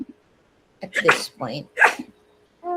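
A single sneeze bursts out near the start of the clip, followed by a person speaking close by in an indoor lecture setting.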